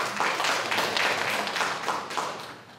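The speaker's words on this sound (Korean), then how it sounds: "큰 박수로 맞아주시면 감사하겠습니다" Forum audience in Busan claps to welcome a presenter, a moderate round of hand clapping with distinct bursts, fairly close, tapering off near the end with no speech over it.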